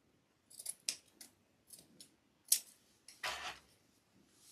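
Scissors snip through paper or card in several quick, close, crisp cuts, spaced irregularly, followed by a longer rustling slice, with no talk.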